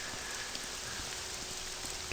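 Steady rain falls in the game The Elder Scrolls III: Morrowind, a constant even hiss with faint scattered drops, soft and unbroken with no talk.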